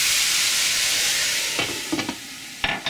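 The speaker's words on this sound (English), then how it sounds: "And we're going to steam this for a minute." Cauliflower steams in a pan with a little water, giving a loud, steady hiss and sizzle that eases slightly, broken near the end by a few stirring scrapes, with no talking.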